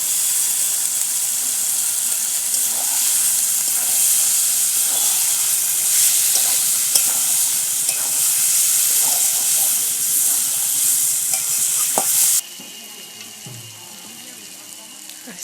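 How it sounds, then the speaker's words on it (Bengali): Marinated chicken going into hot spiced oil, producing a loud, steady, hissing sizzle close by that runs unbroken for most of the stretch, then abruptly drops to a quieter hiss near the end. "ম্যারিনেট করা চিকেনটা দিয়ে দেবো।"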